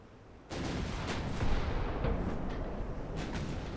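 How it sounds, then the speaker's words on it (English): Battleship Saratoga fires its main guns in the naval warfare game Ultimate Admiral: Dreadnoughts: a heavy boom kicks in abruptly, then a sustained, rumbling roar follows, broken by several sharp blasts. "Here comes the shot from the Saratoga, incoming."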